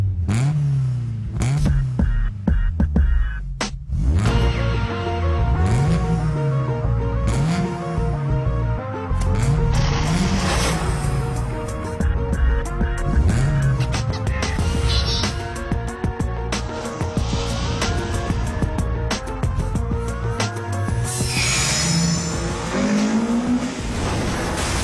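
Car driving hard, engine revving up and down in repeated rising sweeps with gear changes, tire squeal and skidding, loud and continuous with music and sound effects layered over it.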